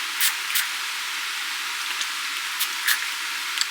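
Short hissing bursts from a spray bottle sound close by, about six quick sprays in irregular rhythm over a soft, steady background hiss.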